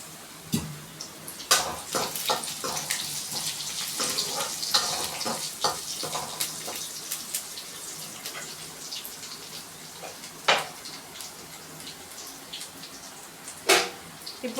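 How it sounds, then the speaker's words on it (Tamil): Water is poured over broad beans in a bowl, splashing and trickling, with scattered sharp spatters and drips across the clip, fairly close and moderately quiet. "நம்ம இப்போ இந்த அவரைக்காய் மேலே தண்ணி ஊற்றுறோம்"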